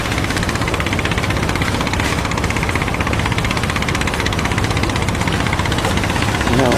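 A fishing boat's diesel engine runs steadily as the vessel heads into harbour in Khanh Hoa, Vietnam, a loud, continuous low rumble with a vibrating throb and no talk over it.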